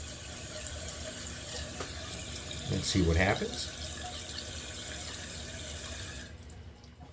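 A toilet fill valve hisses steadily as water refills the bowl of a dual flush toilet, with a brief gurgling swell partway through. A voice speaks briefly over the running water.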